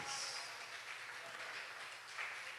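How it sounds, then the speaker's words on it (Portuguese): A church congregation applauds during a worship service, a distant, fairly faint wash of clapping that holds steady throughout with a small swell near the end. "Dê uma linda salva de palmas para Jesus"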